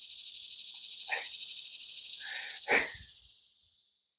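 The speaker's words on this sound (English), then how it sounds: "I hope you can hear me over the cicadas." A dense, high-pitched cicada drone fills the background steadily, with a few soft clicks and a brief thump underneath, then slowly fades.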